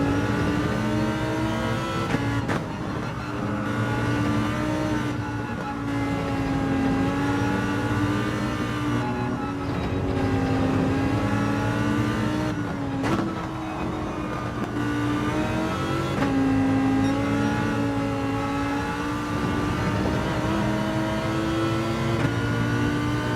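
Race car engines roar in Gran Turismo 7 on a daily race with an AMG in the field, one engine droning loud and close with rising and falling pitch through gear changes and lifts off the throttle, steady for over twenty seconds with no talk.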